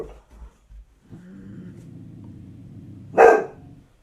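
A pet dog growls low and steadily for about two seconds, close to the microphone, then lets out one loud, sharp bark, with a few faint bumps before the growl begins.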